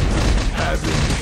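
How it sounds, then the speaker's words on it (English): An explosion in the PS2 video game Spider-Man 2 fills a short moment with a dense, loud rumbling boom that stays full and sustained. "I forget, does that explosion"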